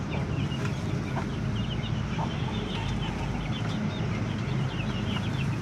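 A flock of Ayam Bangkok chickens clucks and squabbles noisily over late feeding, a continuous close chorus of overlapping calls.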